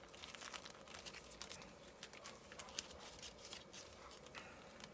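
A plastic bag crinkling as it is handled over a Soviet DP-63-A Geiger counter display, faint irregular crackles and rustles continuing throughout, quiet and close.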